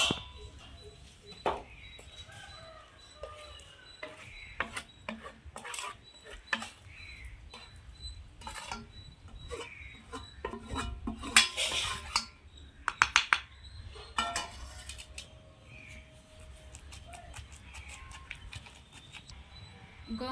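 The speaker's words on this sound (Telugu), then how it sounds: "తెల్లగడ్డ వేసి దంచుకోవాలి. దిగింది, తర్వాత ఉడికిచ్చిన గోంగూర వేసుకోవాలి దాంట్లో." Garlic and boiled gongura leaves pounded in a stone mortar for a traditional chutney, irregular dull thuds and grinding scrapes repeating throughout, close and fairly faint, with occasional speech.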